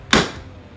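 One sharp, loud whack of a tool striking a Toyota Tacoma's ARB Safari snorkel air intake, a single crisp hit with a short ringing decay, followed by a faint second tap.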